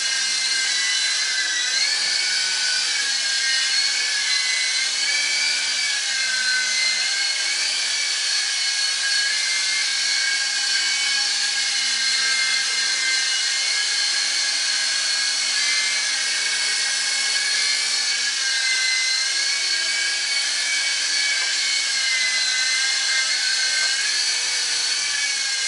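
A radio-controlled model helicopter flies with a continuous high-pitched motor and rotor whine, close and loud, its pitch wavering slightly as the throttle is adjusted throughout, with no voices.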